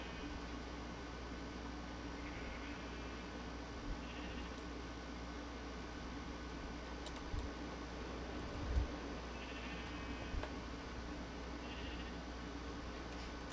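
A few faint sheep bleats from Minecraft with the Tolkiencraft modpack, scattered at a distance over a steady noisy background hum.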